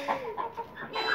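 Farm hens, white layer chickens, clucking nearby in a short run of several separate clucks and soft calls, fairly quiet, with no talk.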